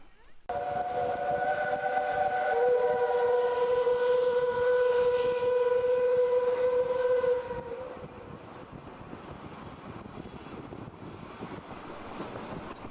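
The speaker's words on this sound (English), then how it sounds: "At Arna station, the last stop before Bergen, we see Hakadal standing in front of the anniversary train." A steam anniversary train on Norway's Bergen Railway stands at Arna station and sounds a loud, sustained multi-tone whistle for about seven seconds, then a quieter steady hiss and rumble continues alone.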